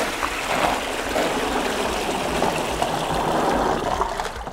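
Coffee cherries are poured into water for processing at a farm, giving a continuous rushing, splashing gush of water and tumbling fruit that holds steady for several seconds before tapering off, with no talking.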